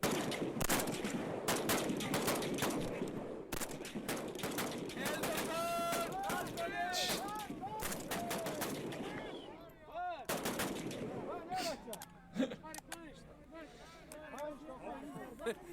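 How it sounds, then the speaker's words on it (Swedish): Sharp Swedish military rifle shots crack repeatedly on a firing command, overlapping in a dense volley, with voices and commotion in between and some birds calling after. "Då skjuter vi ett skott var."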